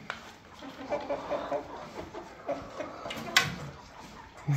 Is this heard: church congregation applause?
no